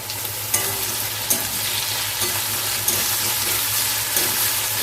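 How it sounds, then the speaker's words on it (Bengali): Onion with ginger-garlic paste frying in a pan, a loud continuous sizzle broken by periodic scraping stirs from a spatula, close up and without talk. "এবার দু চামচ আদা রসুনের পেস্টটা করে গেছিলাম সেটাকে দিয়ে দিলাম এবার এই পেস্টটা দিয়ে নেড়ে চেড়ে নেব"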